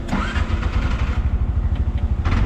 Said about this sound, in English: Now you can start your tuk-tuk.